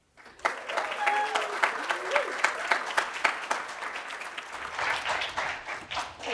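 Conference audience applauding to welcome a speaker on stage, a sudden burst of dense clapping that stays strong and even, thinning slightly near the end.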